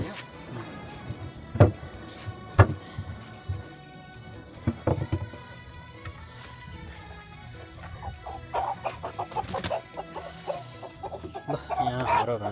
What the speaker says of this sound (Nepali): भाले झिक्दैछन्।